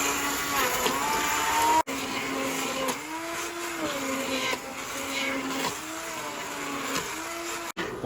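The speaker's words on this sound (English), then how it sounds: "so next we're going to puree it until smooth" A blender purees butternut squash soup, a loud continuous motor whine that shifts pitch as the load changes, briefly cutting out twice, with no voices over it.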